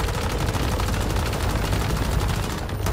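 Rapid automatic gunfire in the video game Once Human, shooting out lights during a boss fight, a loud continuous burst of shots up close with no talking.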